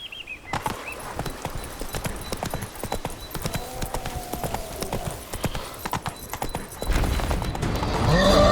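Roach, the horse in The Witcher 3: Blood and Wine, gallops with fast, dense hoof clatter that runs loud and close throughout, with a brief whinny and music rising toward the end.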